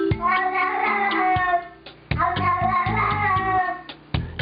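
Tiggy the cat gives two drawn-out, hello-like meows close to the microphone, each tonal call rising and falling, separated by a short pause and followed by a soft thump.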